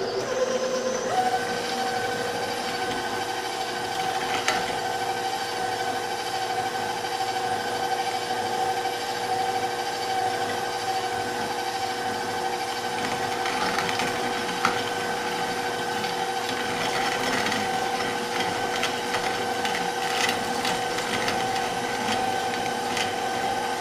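A grain mill grinding wheat and other grains on a very fine setting for Ezekiel bread, a steady loud mechanical whine and rattle that holds without pause, with occasional small knocks.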